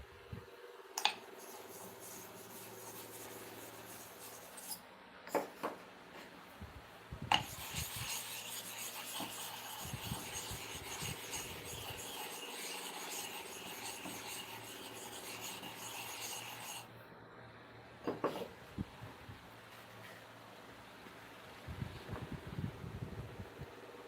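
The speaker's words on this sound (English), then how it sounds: "Now, let us repeat the sharpening again." Close rasping and rubbing strokes as badly rusted, condemned hair clipper blades are sharpened by hand, with scraping passes in irregular bursts, a few sharp clicks, and a faint background hum throughout.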